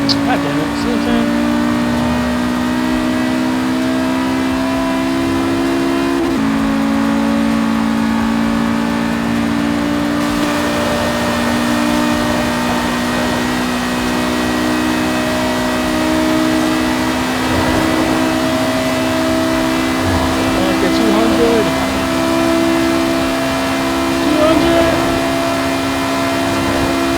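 Game-simulated engine of a 1995 Audi RS2 Avant in Forza Horizon 3, a steady loud drone with shifting pitch and occasional brief pops like backfires, running continuously throughout.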